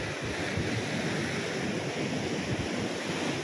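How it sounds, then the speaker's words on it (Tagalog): Choppy sea waves churn and slosh in a constant, fairly faint rumble mixed with wind noise on the microphone, with no talking. "Medyo maalon ngayon."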